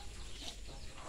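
Chickens at a nest cluck softly, a faint, steady, low-level patch of fowl sounds with no talk over it.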